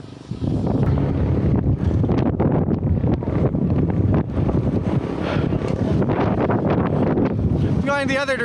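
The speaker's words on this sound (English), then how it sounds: "We turned around and a wind shift, and it's still a headwind." Strong headwind buffeting a microphone while cycling on a winter road, a loud, continuous, gusty roar that fills the whole clip, with a brief squeaky tone near the end.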